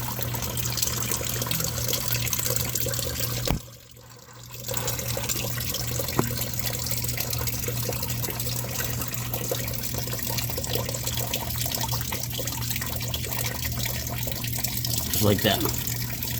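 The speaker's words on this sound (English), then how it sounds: "draining the antifreeze. Just enough so it could just drain into the bucket" Antifreeze drains from a Ford Ranger's cooling system into a bucket, a steady running trickle of liquid that continues through the whole stretch with a brief dip, under a constant hum, while someone talks briefly.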